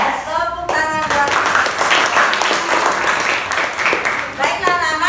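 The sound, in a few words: class of children applauding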